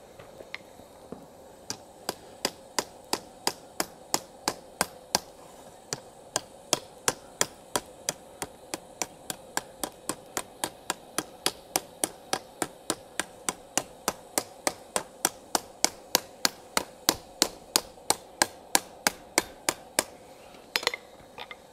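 Steady hammer blows ring out on hot steel as a spatula blank is crowned over the step of an anvil during forging, about fifty sharp, evenly spaced metallic strikes over twenty seconds with brief pauses, close and loud with no talk.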